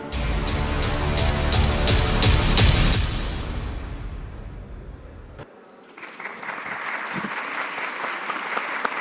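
An audience at a marketing and creativity talk breaks into applause that swells loudly for a few seconds and then fades. Quieter scattered clapping and murmuring follow.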